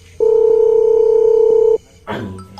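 Telephone keypad dialing tones ring out loud and close: one long steady beep, a short gap, then another tone begins, with no talking over them.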